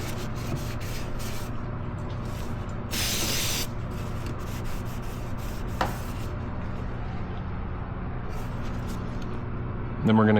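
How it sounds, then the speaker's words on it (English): Wurth multi-purpose solvent sprayed into the air ducts of a BMW K1300S motorcycle, a short hissing blast of spray near the three-second mark over a steady background of low noise, ending with a brief clatter. "we're gonna use our Worth multi-purpose solvent. We're gonna clean all this gunk and bugs and dirt out from these air ducts"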